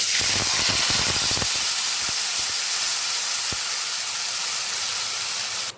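Ground spice paste hits hot oil in a pan for a chickpea ghugni, giving a loud, steady hiss of sizzling that fills the whole stretch, with a few sharp crackles and spatters early on and no talking.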